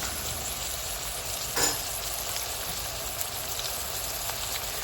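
Ground beef and onions browning in a pan for a Mexican casserole, a continuous close, moderately loud frying hiss with one short stirring scrape and no voices.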